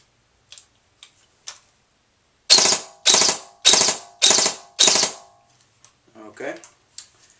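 A G&D DTW airsoft rifle on a LiPo battery fires five sharp, loud, evenly spaced shots up close, preceded by a few faint clicks and followed by brief talking.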